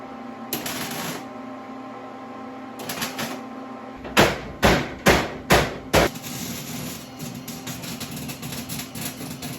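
Tack welding on a car body panel in a body-swapped Falcon: a series of about five sharp, loud crackling bursts in quick succession mid-clip, framed by steadier hissing and background noise with no talk.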